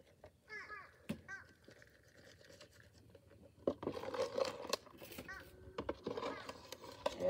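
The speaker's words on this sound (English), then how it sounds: "Dad, I think your crows want fed." Crows caw in short harsh bursts, a few calls close together in two or three clusters, fairly near, mixed with scraping and rustling handling noises outdoors.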